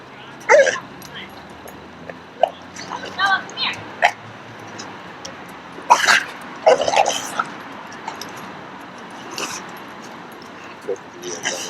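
Dog-reactive pit bull confronting an off-leash dog outdoors, with scattered sharp barks and yips in short bursts amid shouting and talking people, a few whimpering cries in between.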